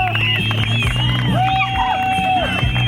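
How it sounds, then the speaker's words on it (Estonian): A crowd at a car meet cheers and whoops in a short, lively burst, with shouting voices and scattered clapping mixed with steady engine or background hum. "Aplaus kisakõrile."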